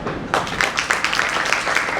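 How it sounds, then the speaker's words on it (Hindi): A crowd bursts into applause, many hands clapping quickly and steadily, loud and close, continuing without pause. "तालियां सर"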